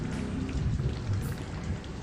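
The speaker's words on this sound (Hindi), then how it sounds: "आंधी के साथ होने वाली तेज़ बारिश को हम आंधी तूफान बोलते हैं" Heavy thunderstorm rain pours down as a dense, steady roar of drops on surfaces, constant and fairly close for two seconds with no speech.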